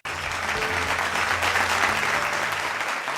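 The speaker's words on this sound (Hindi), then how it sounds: "जोरदार तालियां होनी चाहिए।" Enthusiastic audience applause at an annual gala dinner as an award is presented, loud continuous clapping from a large crowd that swells and holds steady for about three seconds, with faint low hum from the venue.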